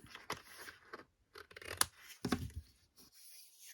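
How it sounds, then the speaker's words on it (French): Scissors snip the corners of a folded paper gift-card pocket, several short crisp cuts with rustling paper handling between them, close and fairly quiet, with no talking. "Je vais couper les angles pour que lorsque ça se plie, voilà, nous ayons des beaux angles"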